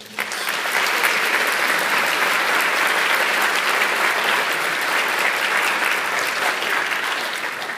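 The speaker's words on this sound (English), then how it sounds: "So let's give them a round of applause." A large crowd in a high school hall applauds the hosts, a thick, sustained wash of clapping that swells quickly and holds evenly before easing slightly at the end.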